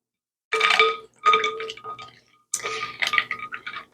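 Spoon stirring brine and ice water for corned beef in a pot: bright clinks and sloshing come in several irregular bursts, close and moderately loud.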